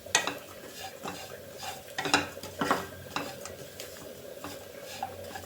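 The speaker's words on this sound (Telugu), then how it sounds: "ఇట్లా పచ్చి వాసన పోయేదాకా వేయించుకోవాలి" Chili powder fries in a pan with bitter gourd pieces for kakarakaya karam, a soft low sizzle under close stirring, with a few louder scrapes and clinks of a spoon against the pan.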